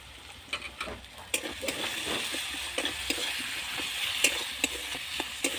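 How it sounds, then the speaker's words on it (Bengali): Snake gourd (chichinga) fries in a pan while a spatula stirs it, giving a soft sizzle broken by repeated sharp scraping clicks, close and fairly quiet. "দিয়ে ওটাকে নাড়বো, আবার নাড়বো, নেড়ে চেড়ে সুন্দর করে নাড়বো"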